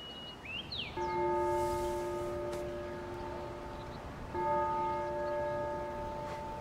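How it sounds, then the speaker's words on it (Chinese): A bell rings out twice with a long, sustained resonant tone, each strike humming and slowly fading, clear and moderately loud over a quiet outdoor background. "别吵，钟声要来了。"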